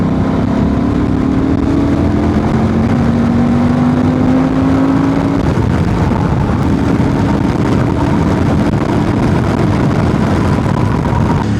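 A Honda Transalp 750 motorcycle with a remapped ECU pulls hard in fourth gear from about 4000 rpm, its engine note loud and rising steadily under strong wind rush for several seconds.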